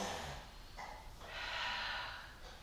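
A single breathy exhale during a pelvic tilt exercise, soft and close, a faint airy rush lasting a second or so after a brief sniff.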